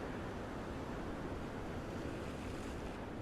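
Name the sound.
water running over rocks at the Gold Coast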